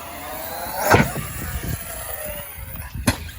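A car hits a homemade wooden stunt ramp and lands with two sharp thuds about two seconds apart, over a steady rumble of outdoor noise.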